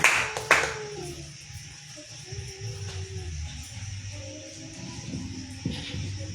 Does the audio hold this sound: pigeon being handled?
no